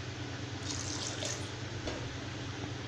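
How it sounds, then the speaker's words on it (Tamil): Hot water poured from a vessel into wheat rava (samba rava) for pongal makes a steady, continuous splashing pour that lasts about three seconds, close by, with no talking. "இப்போ இதில் தேவையான அளவு தண்ணி ஆட் பண்ணிக்கிறேங்க."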